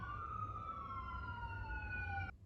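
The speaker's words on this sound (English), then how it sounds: "Here comes the siren." A siren wails outside during a home barre class, one steady, slowly falling tone with faint higher harmonics. It holds for about two seconds before cutting off abruptly.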